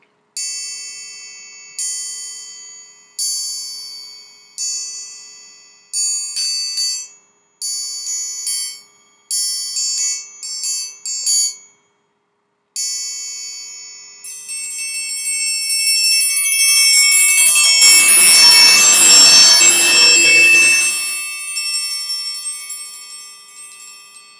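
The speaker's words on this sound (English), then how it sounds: "this is a bigger triangle, and it's going to have probably a darker sound" A large 9-inch Grover orchestral triangle rings in a run of short separate strikes with gaps, then a sustained roll that swells loud and bright and fades, alone with no voices.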